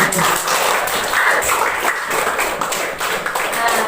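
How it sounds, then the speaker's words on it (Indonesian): A classroom group applauds Ananda Nelly after her answer, dense steady clapping throughout, close and loud, with no talking over it. "Tepuk tangan untuk Ananda Nelly."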